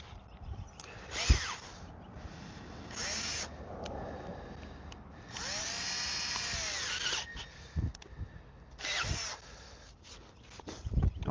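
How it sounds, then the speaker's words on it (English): A battery-powered tool bites into a log while making a Swedish fire log, whining in several separate bursts that rise and bog down, with knocks and handling noises between them. "It wants to eat through the wood, but it's not eating through that wood like that."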